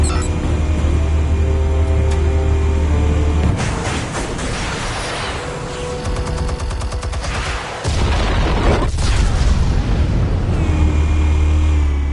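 Explosives detonate in Batman: The Telltale Series amid a loud, dense barrage of booms and crackling blasts layered over droning tones, with a sharp cut and a fresh burst partway through.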